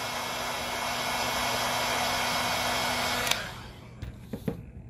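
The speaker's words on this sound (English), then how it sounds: "So I'm going to blow more heat again." A heat gun blows hot air onto an iPhone 8 screen during a cracked screen repair, a steady close whooshing roar that cuts off near the end, followed by a few faint clicks.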